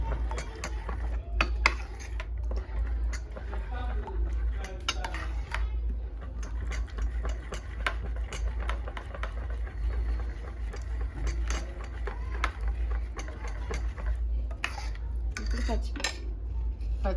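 Omelette ingredients, including green chilli, being beaten in a bowl, a steady run of quick clinking utensil strokes against the dish over a constant low hum, continuing throughout.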